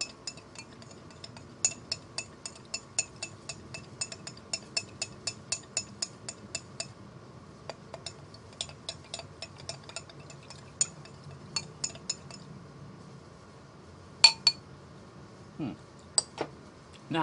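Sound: stirring whiskey and sugar in a glass

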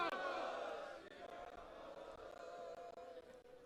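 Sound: crowd shouting Sikh jaikara response to Bole So Nihal

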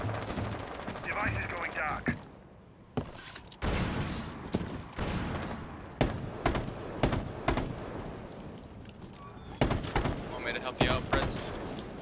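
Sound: gunfire, free firing in a video game

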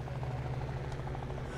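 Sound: military helicopters in video game Liberated

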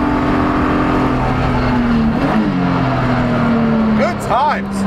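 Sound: BMW E46 330ci engine shifting on race track

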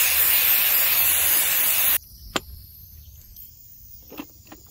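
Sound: spraying electronic cleaner from a can

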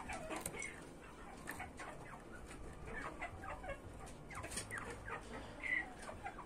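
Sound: chickens clucking

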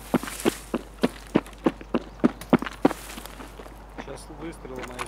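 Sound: footsteps in a video game

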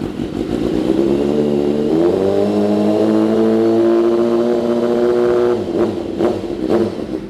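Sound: sport motorcycle engine revving

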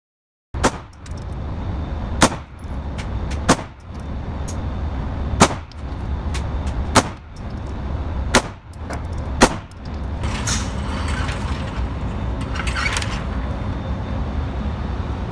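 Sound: pistol gunshots

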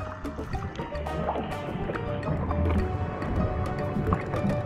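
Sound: kayaking on the ocean in Cuba

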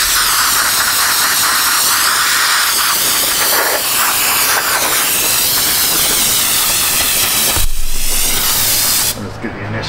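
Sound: brake cleaner spray hissing onto parking brake parts

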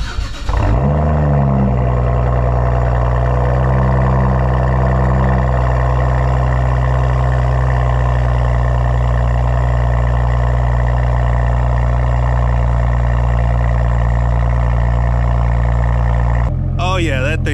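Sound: car engine cold start with muffler delete

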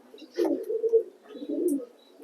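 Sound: pigeons cooing in pigeon loft

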